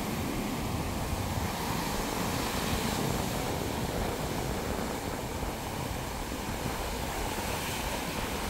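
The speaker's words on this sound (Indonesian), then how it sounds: "Ombaknya gede banget." Big ocean waves at night roll onto an eroding coastline near a village, a continuous loud roar of surf mixed with wind rumble, no voices.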